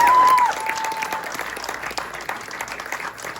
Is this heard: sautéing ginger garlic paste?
no